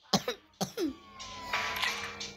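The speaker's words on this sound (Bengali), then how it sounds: "আমার অনেক কাশি" A person coughs in quick bursts, two sharp coughs followed by a rougher, longer cough and throat noise, close and alone without speech.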